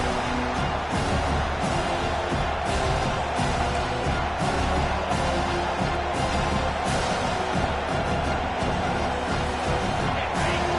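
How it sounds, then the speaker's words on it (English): A football stadium crowd roars steadily as it cheers on the defense on third down, a dense, loud, unbroken wall of noise with no clear voices standing out. "Decibels rising as the crowd gets behind this defense on 3rd down"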